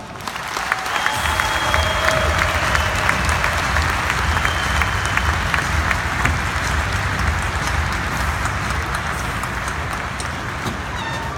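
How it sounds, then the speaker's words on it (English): Loud, sustained applause from a large conference audience after a keynote at LiveWorx, steady dense clapping filling the hall with a low background rumble throughout. "Let's give another round of applause for Jim Heppelman and PTC"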